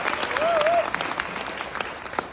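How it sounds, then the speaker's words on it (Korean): An audience at a seminar event claps together in a hall, a dense burst of applause that rises quickly and then tapers off with scattered claps, while someone talks faintly. "이때 유능한 관중들은요, 박수를 치더라고요."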